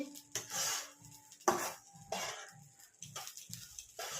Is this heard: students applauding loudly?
no